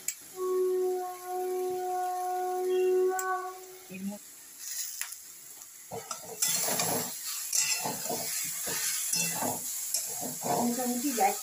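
A spatula scrapes and clatters in a pan as a mixture of bottle gourd peel and chopped green chillies is stirred and sautéed, with a soft hiss underneath, after a few seconds of steady tonal notes.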